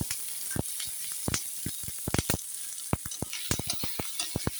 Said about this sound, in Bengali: সুন্দর করে একটু ভেজে নিলাম মশলাটা